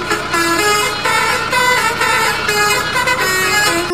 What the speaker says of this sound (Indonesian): Maudi langsung menyapa dengan suara klaksonnya yang ceria